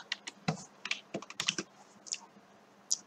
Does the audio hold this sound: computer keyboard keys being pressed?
yes